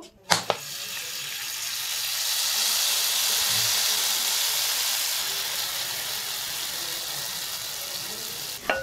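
Batter hisses and sizzles in a lightly oiled pan while a sweet Lahori pura cooks, a steady close frying rush that swells and fades, with a couple of brief clicks at the start and end.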